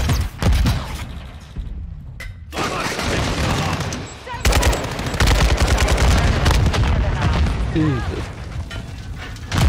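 Intense multiplayer battle in the shooter Modern Warfare 2: a grenade blast and dense rapid gunfire, loud and nearly continuous with short gaps, while a player briefly exclaims.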